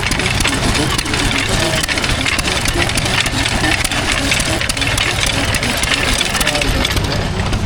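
A stationary engine at a rural show drives a saw through a log, a loud, steady, continuous mechanical roar with a low throb and no break from start to finish.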